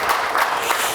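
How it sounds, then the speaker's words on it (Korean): A lecture audience breaks into applause, a dense, even wash of many hands clapping at once for a brief moment. "박수 한번 부탁드립니다"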